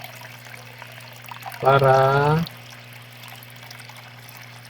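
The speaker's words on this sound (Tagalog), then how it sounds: "Kumuha ulit ako ng tubig para dagdagan." Water is poured into a home fish tank in one short, gurgling splash lasting under a second, close to the microphone, over a steady low hum and quiet speech.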